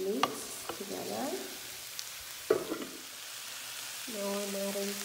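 Banana pepper and cabbage being stirred in a frying pan, a soft sizzle broken by a few sharp utensil knocks and scrapes, with a steadier tone entering near the end.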